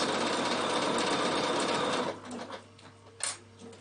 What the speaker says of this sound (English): it stitches in the ditch, and then it jumps over and does one bite